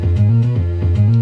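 Beeper music from a PC speaker run through a phaser effect, a loud buzzy square-wave tone with a sweeping, swirling timbre and pulsing rhythmic notes over a short stretch, with no talking.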